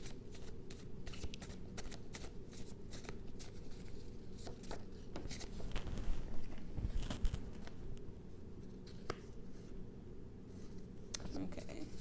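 Tarot cards shuffled during a reading, with a long run of close, crisp riffling and flicking card sounds in uneven bursts, while a person talks softly in between.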